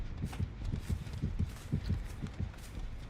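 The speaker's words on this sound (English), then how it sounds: "I don't know why I'm hearing heartbeat" Faint, steady thumping of a heartbeat inside a video game: low, muffled paired beats repeat evenly through a quiet background.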